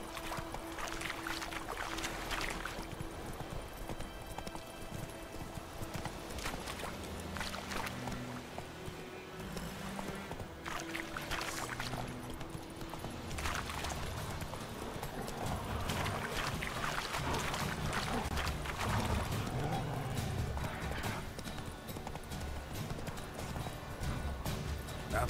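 Roach, the horse in The Witcher 3 video game, gallops with a continuous rhythmic clip-clop of hooves over a steady ambient bed and soft musical tones, moderately loud and sustained, with no voices.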